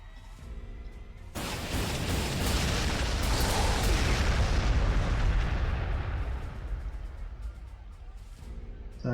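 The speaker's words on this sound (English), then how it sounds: "let's call in some artillery" A Warhammer 40,000: Sanctus Reach artillery strike hits with a loud sustained roar of blasts that swells and then slowly fades, heard alone.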